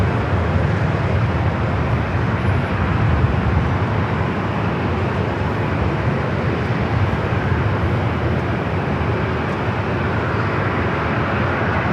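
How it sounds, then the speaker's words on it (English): A United Boeing 787-10 Dreamliner from Newark arriving at LAX, a loud, steady broadband jet roar that holds evenly throughout with no talk over it. "Next arrival is United Flight 2692 coming from Newark"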